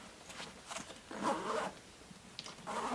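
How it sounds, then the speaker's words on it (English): Zippers on the small pocket of an Eagle Creek Tarmac carry-on bag, pulled in several short rasping strokes, close up, with brief pauses between pulls and no talking. "This small pocket will include lockable zippers as well."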